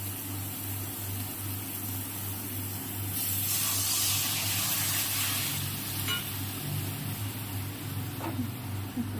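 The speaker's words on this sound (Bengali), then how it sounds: "এবার আমি একটু জল দিয়ে দেবো" Water poured into a frying curry in hot oil bursts into a loud, rushing hiss and spray that swells midway, then fades back to a lower steady sizzle with a couple of faint utensil taps.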